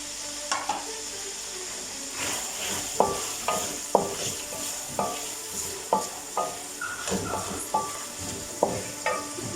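Vegetables sauté in a pan for Chicken Manchurian, a steady close sizzle under regular scraping strokes of a spoon stirring the pan about once a second.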